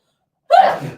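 A single sharp sneeze bursts out after a moment of silence, close and fairly loud, then fades into a short breathy tail.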